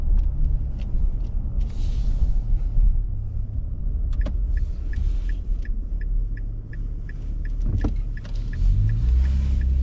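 A 2024 Nissan Frontier Pro-4X pickup with a Vibrant Street Power muffler drives along, heard from inside the cab as a steady low exhaust rumble and road noise, with brief clicks and knocks on top.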